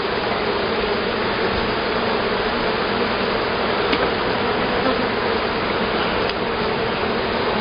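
Honey bees swarm over a hive's honey frame, their dense, loud buzzing forming a steady close-up drone that fills the whole stretch without pause.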